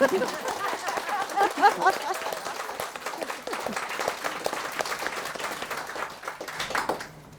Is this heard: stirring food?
no